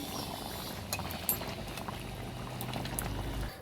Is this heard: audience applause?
no